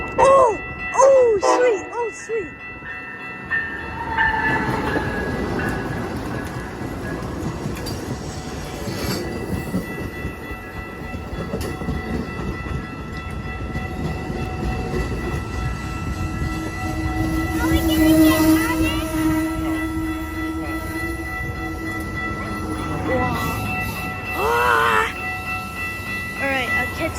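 An Amtrak Empire Builder passenger train arrives at Glenview, Illinois, with a loud sustained rumble of rail cars, wheel clatter and squeal, and horn-like tones, while people talk nearby.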